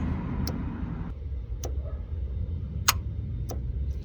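A car air conditioner compressor's magnetic clutch engages with a series of sharp, isolated clicks, four or so spaced irregularly. They sit over a steady low engine hum that drops slightly as the first click lands.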